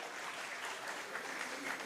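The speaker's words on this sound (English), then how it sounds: "So a round of applause to Khushi." A short burst of steady audience clapping for a performer named Khushi at the opening ceremony of an all-India inter-university squash tournament, even and sustained without pause.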